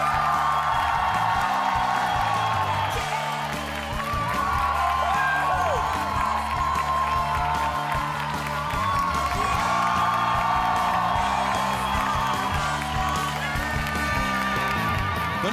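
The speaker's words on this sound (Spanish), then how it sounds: "El aplauso para Conejo." A television studio audience at a masked singing competition grand final applauds and cheers for the winner, with whoops and shouts over a loud, steady wash of clapping and music, filling the whole stretch.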